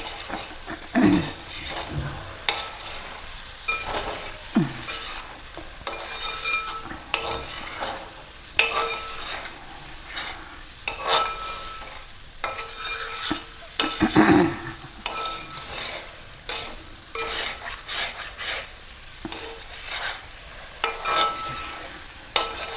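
Egg thoran mixture stirred and frying in a pan, with steady soft sizzling broken by repeated scraping strokes of a spoon against the pan, close and alone.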